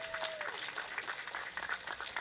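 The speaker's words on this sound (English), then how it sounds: "Let's give them a round of applause." Outdoor crowd applause at a San Dimas city opening ceremony for a sponsor, a steady moderate wash of clapping lasting the whole moment, slightly distant.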